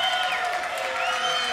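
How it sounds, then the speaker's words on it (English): Crowd at a wrestling match applauds and cheers in a sustained, even roar of clapping, with a tonal hum running beneath the noise. "Listen to that round of applause for Phoenix."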